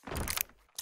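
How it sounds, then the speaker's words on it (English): Bomb being planted in a 3v3 video game, a short burst of mechanical clicking and ratcheting that stops abruptly, followed after a brief quiet by one more sharp electronic chirp. "Planting the bomb!"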